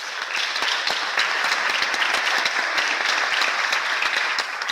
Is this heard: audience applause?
yes